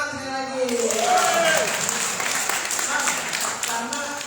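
Applause from attendees at a plenary meeting in Jakarta, a crowd of hands clapping that builds after a brief moment of talk at the start and carries on steadily, with voices mixed in.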